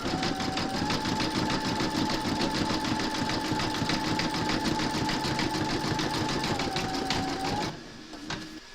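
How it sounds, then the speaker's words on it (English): An embroidery machine zigzag satin-stitches the raw-edged border of a bunny slipper sole, a steady, loud rapid mechanical chatter with a constant whine that runs unbroken for most of the span before cutting out, leaving a few faint clicks. "you're going to stitch round number 6, and that's going to zigzag the raw edge"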